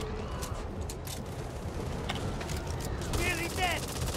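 Bursts of gunfire from shooting at the ogre in the video game Back 4 Blood, rapid shots repeating through a dense, noisy game soundscape, steady and moderately loud throughout.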